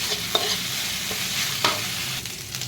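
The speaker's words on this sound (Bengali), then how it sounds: "দেখো আদা রসুনের পেস্টটা অ্যাড করে দিয়েছি, যতক্ষণ না কাঁচা আদা রসুনের গন্ধটা যাবে ততক্ষণ কিন্তু ভালো করে আমাকে নেড়ে চেড়ে নিতে হবে।" Ginger garlic paste frying in a pan while a spoon stirs it, a soft steady sizzle with light scraping clicks, close and continuous, no talk.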